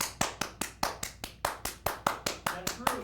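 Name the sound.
hands clapping in front of someone's face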